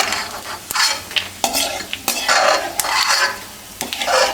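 Charoli seeds being lightly roasted in a pan, with repeated scraping stirring strokes and soft sizzling, close and fairly loud, with no talking.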